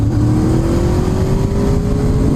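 Honda VTEC motorcycle engine revving hard on the road, a loud sustained roar with pitch climbing steadily as it pulls, close and alone.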